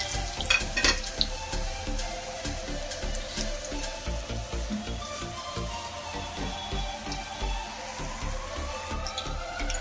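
Cabbage Manchurian balls fry in hot oil over a medium flame, a steady dense sizzle with crackling pops and occasional clinks of a utensil stirring, close and continuous with no talk.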